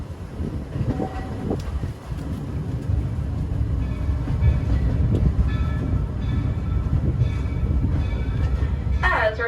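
Walt Disney World Railroad train rolling into Main Street Station, a steady low rumble of the cars with faint rail clatter throughout and a brief bell or whistle-like tone at the end, with a voice speaking over it.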